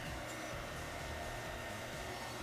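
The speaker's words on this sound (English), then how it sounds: "I'm going to take the blow dryer and try and push it around a little bit." A blow dryer runs at a steady, loud whoosh throughout as it pushes wet tinted epoxy around on a table top, with no change in pitch and no talking.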